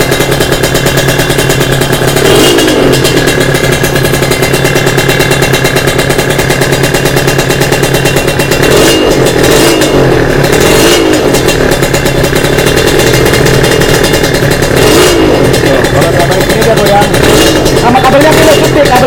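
A motorcycle engine, tested after solenoid checks, runs steadily and loudly at close range throughout, its continuous idling drone and mechanical rattle unbroken, with workshop talk beneath.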